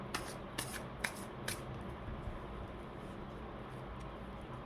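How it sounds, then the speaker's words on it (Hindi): Tarot cards being shuffled by hand, a few quick crisp riffling bursts near the start followed by soft faint rustling and handling, close and quiet with no talking. "तो चलिए कार्ड्स निकालते हैं।"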